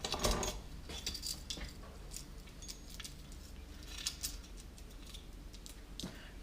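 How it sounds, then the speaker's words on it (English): A chain and bar are fitted back onto a Husqvarna 385xp chainsaw, with faint metallic clinks, taps and rattles of parts being handled close by, irregular and quiet throughout. "So I'll reinstall the chain and the bar."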